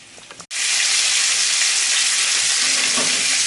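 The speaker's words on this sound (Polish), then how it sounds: "i obsmażamy po 5 minut z każdej strony" Pork loin chops frying in a hot pan, a brief quiet patch at the start giving way to a loud, steady, continuous sizzle that fills the rest of the clip with no talking.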